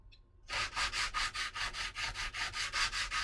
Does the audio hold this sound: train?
no